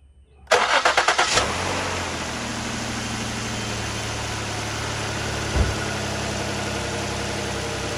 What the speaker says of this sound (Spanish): ahí está prendidito, está serenito el motor, quedó parejito